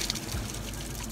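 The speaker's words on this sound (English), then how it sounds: "Now we'll open our front spigot to drain the building." Water drains from an outdoor spigot, pouring and splashing steadily, a continuous hissing gush with no pauses.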